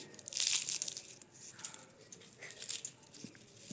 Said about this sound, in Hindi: चलिए एक मठरी को मैं तोड़कर दिखाती हूँ, ये कितनी कुरकुरी बनकर तैयार हुई है।